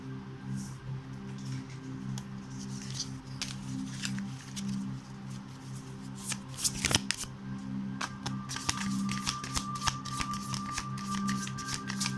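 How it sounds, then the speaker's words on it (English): Cards of a Light Seers Tarot deck are shuffled in a quiet room, with soft riffling and slapping rising to denser, louder bursts in the second half over a steady low hum. "I'm taking another deck, the Light Seers Tarot."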